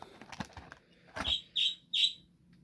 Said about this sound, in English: There we go, 4 times he chirped whilst I was talking.